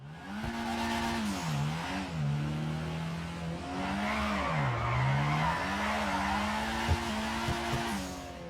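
Car drifting in the video game GTA 5, with a revving engine rising and falling in pitch and a steady rasp of tyre skid underneath, loud and continuous throughout with no talk.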